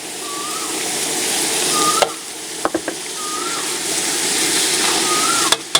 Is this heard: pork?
yes